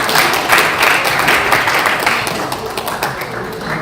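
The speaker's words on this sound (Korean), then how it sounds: "서로 박수 한번 치시고요." An audience at a Democratic Party innovation committee meeting with Gangwon residents in Chuncheon clapping together, a dense, loud, steady round of applause that thins slightly toward the end.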